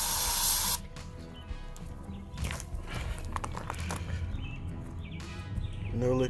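Liquid is sprayed in short hissing bursts into the exhaust valve side of an engine head during a valve spring installation, close and fairly quiet, with a louder burst at the start and small handling noises between.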